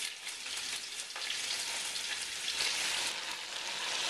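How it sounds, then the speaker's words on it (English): Chicken wings sizzle and fry as they brown in a big pot, a steady, dense crackling hiss that runs unbroken and fairly loud throughout. "Sizzle, sizzle."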